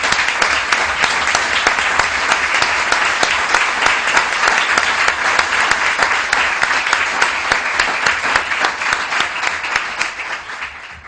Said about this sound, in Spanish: Bueno, yo creo que se merece un aplauso.